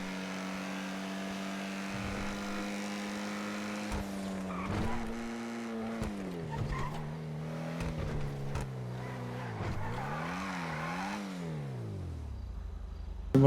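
A car driven in the video game GTA revs and skids, its engine note rising and falling repeatedly while tires squeal, loud and close, with a brief thump near the end.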